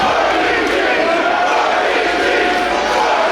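A wrestling crowd of about 1,200 roars and cheers at a live event, a loud continuous wall of voices with no break.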